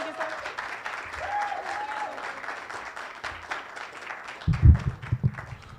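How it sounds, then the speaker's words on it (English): At a poetry marathon benefit, the audience claps for the next poet, a dense even patter of many hands spreading through the room, with a voice and some louder thumps near the end. "I need to hear everybody clap until he gets up."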